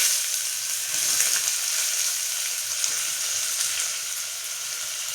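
Chopped onions and bay leaf sautéing in hot oil in a pan, a steady bright sizzle with faint crackles and occasional stirring, continuous and fairly close.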